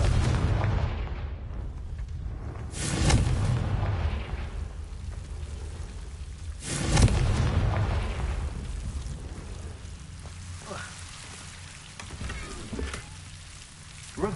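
Confringo blasting spells in Hogwarts Legacy burst as loud, booming explosions, two big blasts a few seconds apart with rumbling tails, followed by smaller pops, with no talking.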